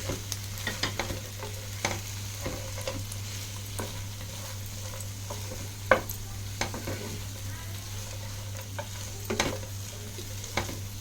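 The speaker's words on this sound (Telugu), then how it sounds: "ఇప్పుడు మనము ఫ్రై చేసి పెట్టుకున్న చికెన్ ఇందులో వేసుకొని మంచిగా కలుపుకుందాం" Fried chicken for Chicken 65 being stirred in a pan: a continuous sizzle with repeated scraping strokes of a spoon against the metal, plus a steady low hum.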